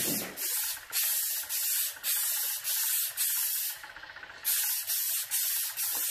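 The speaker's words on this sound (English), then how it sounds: "Get a little test spray." A spray can of satin paint hisses in a series of short, close bursts onto a tumbler, each puff separated by brief pauses.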